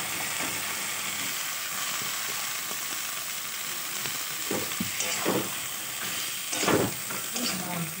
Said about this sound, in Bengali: সবজিটা একটু কষিয়ে নেব